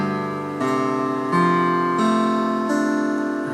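Guitar in D standard tuning, each string tuned a whole step down from E standard, strummed as a chord several times, ringing steadily and clearly with no talk.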